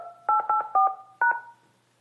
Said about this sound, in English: Please re-enter your access code followed by the pound or hash sign.